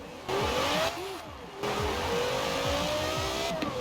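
A Porsche Carrera GT engine in the Forza Horizon 4 racing game, revving hard with rising and falling engine pitch through gear changes, loud and continuous.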